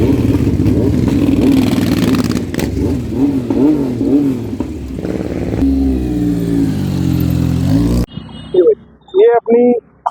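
A 2024 Honda Goldwing motorcycle engine runs loud and close, revving in rising and falling waves under a voice, before cutting out near the end, when people speak more clearly.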